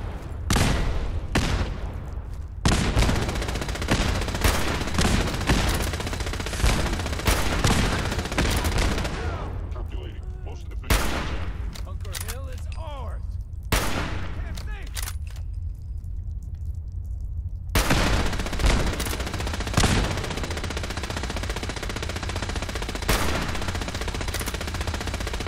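Sniper rifle gunfire in Fallout 4 on PC, set around the Castle armory battle: loud, sharp shots spaced irregularly, with bursts of other gunfire and some game chatter between them.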